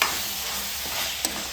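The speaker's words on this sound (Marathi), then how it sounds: "ती ग्रीन पेस्ट आता फोडणीत टाकलं" Green paste hitting hot tempering oil in a home kitchen gives a steady, close sizzle with a faint clink near the end and no talk.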